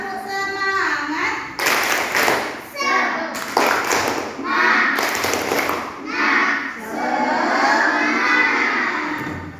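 Children in a classroom perform a rhythmic spirit clap chant, bursts of group clapping alternating with chanted voices, close and lively, with an adult voice leading in between.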